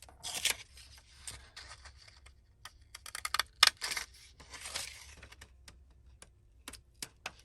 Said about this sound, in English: We'll grab our postage scissors.